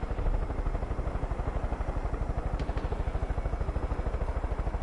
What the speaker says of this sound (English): To let my helicopter ride on the middle of the street.